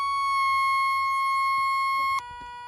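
Steady high electronic hum from a Fisher Gold Bug 2 metal detector's threshold, droning evenly for about two seconds before dropping abruptly to a softer, lower setting.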